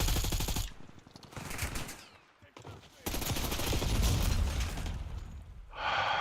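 Bursts of rapid gunfire rattle in a shooter video game, several loud sustained volleys separated by short quieter gaps, with a final burst near the end.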